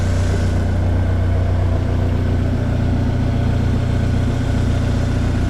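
Close, steady idle from a BMW E36 Compact engine after its DISA valve was repaired, a smooth continuous low hum with no rattle or talk over it.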